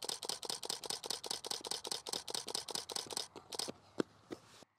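Rapid burst of camera shutter clicks from a body fitted with a 70-200 zoom lens set to 1/400 second, about seventeen crisp even clicks in quick succession, then a few scattered clicks before it stops.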